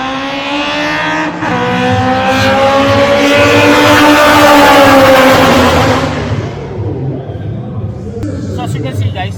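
Race cars roar past at top speed at Clark International Speedway, a loud rising engine whine with climbing pitch that peaks and fades after about six seconds, followed by quieter engine noise.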